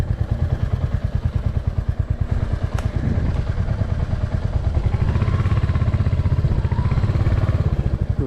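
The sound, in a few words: Royal Enfield Hunter 350 motorcycle moving off-road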